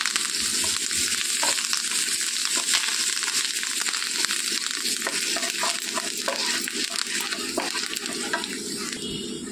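Loud, steady sizzling of curry leaves frying in hot oil with asafoetida, with a dense crackle and occasional stirring scrapes, close up and continuous with no talk.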